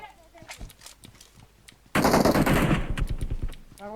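Rapid automatic gunfire in a shooter video game: scattered shots, then a loud sustained burst of fire midway that trails off into quicker pops, with voices faintly underneath.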